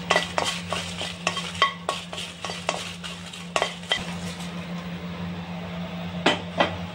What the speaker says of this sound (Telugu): ఈ ఉద్దిపప్పు వేయిస్తున్నాను ఫ్రెండ్స్